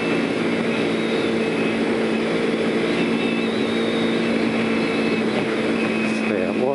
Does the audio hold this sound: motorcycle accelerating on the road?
yes